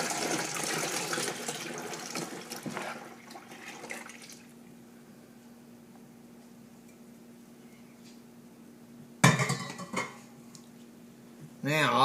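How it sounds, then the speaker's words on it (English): Grape ice cream mixture poured into the metal can of an ice cream maker, a broad splashing, clattering pour up front that fades to a quiet hum, then brief loud knocks of the container near the end. "I'm going to go ahead and pour this over into the can."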